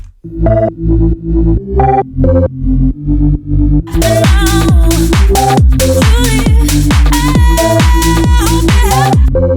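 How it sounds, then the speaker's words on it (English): A deep, heavy synth bass of three layers, including a sub layer, pulses in a repeating speed garage pattern, joined midway by bright layered synths and drums that fill out a loud, dense mix. "The bass sounds like this."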